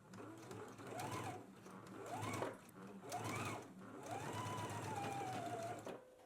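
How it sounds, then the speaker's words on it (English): A sewing machine stitches the shoulder seams of a lined vest at a 5/8-inch seam allowance, running in four steady whirring bursts with rising and falling motor pitch, close and fairly quiet. "let's go ahead and stitch using a 5/8 of an inch seam allowance"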